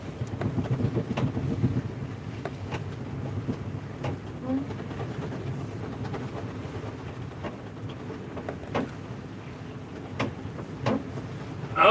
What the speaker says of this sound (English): Get some good wind in here.